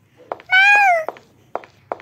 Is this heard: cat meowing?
yes